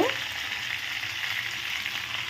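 Vegetables for a Bengali chorchori hitting a hot pan with oil, a steady crackling sizzle that holds evenly from start to finish, close and moderately loud, no speech.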